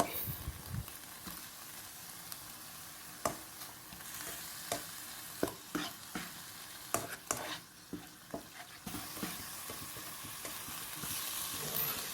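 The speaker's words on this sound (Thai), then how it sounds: "ลวนลงในกระทะเลยนะครับ ใช้ไฟกลางครับ ค่อยๆลวนไปเรื่อยๆ นะครับ จนกว่าจะสุก" About 300 grams of minced pork is dry-stirred in a pan with no oil over medium heat, a soft sizzle running under repeated sharp spatula scrapes and clacks in an uneven rhythm, close and unaccompanied by speech.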